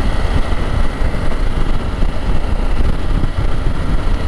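BMW F900 GS motorcycle cruising along a coastal road near Maceió, a loud continuous engine drone mixed with heavy wind rush against the microphone, steady throughout with no talk.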